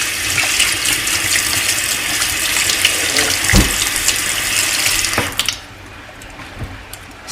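Tap water runs steadily into a sink while a makeup brush is washed under it, a loud continuous splashing rush that lasts about five seconds before the flow shuts off.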